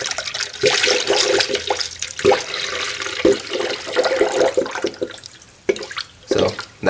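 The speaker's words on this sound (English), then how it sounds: "So that bubbling up is supposed to be a good thing when you fill it up." Coolant glugs and bubbles as it is poured into the radiator of a 2006 Acura TSX, with irregular gurgling bursts and sloshing liquid that rise and fall over several seconds.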